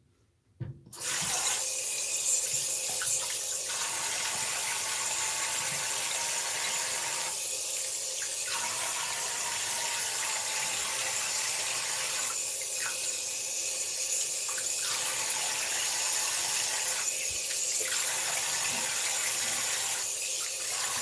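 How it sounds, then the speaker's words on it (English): A bathroom tap runs steadily while someone rinses off after shaving, with a continuous close rush of water, a faint intermittent squeal and no talking over it. "I'm going to rinse off real quick"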